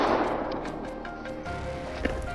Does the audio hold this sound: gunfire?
yes